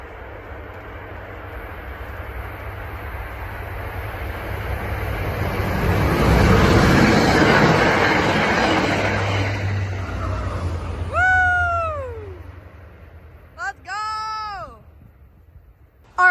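An inbound train passes at Mansfield as a broad roar that swells and fades over several seconds, followed by meow-like sliding squeals, likely from the rails or brakes, at the end.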